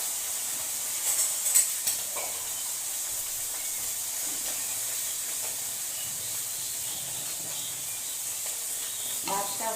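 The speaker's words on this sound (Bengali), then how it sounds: "এখানে আমি মাছটা ভেজে নিচ্ছি।" Fish frying in a pan, a constant close hissing sizzle with occasional stirring clicks and small crackles, steady throughout without speech.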